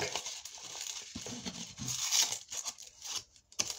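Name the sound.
crinkling wrapper of dark chocolate bar being opened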